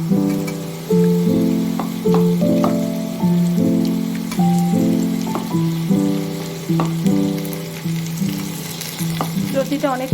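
Taro stolons hit a hot pan of frying garlic and sizzle loudly and steadily, with a few stirring scrapes and spatters close by and no voices.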